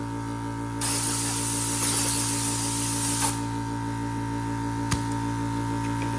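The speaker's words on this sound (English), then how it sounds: "And we have our little blow gun right here." VEVOR 8-gallon air compressor blow gun releasing a burst of hissing air for about two and a half seconds over a steady motor hum, followed by a single sharp click.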